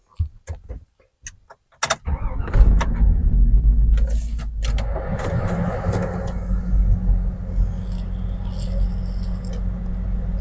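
A few clicks and a door thud, then a 2003 Hummer H2 engine starts and it drives on with a steady low road rumble and cabin hum, air conditioning running.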